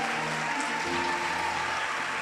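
A church congregation applauds in a continuous, even roar of many hands, with a low tonal hum running underneath for the whole stretch.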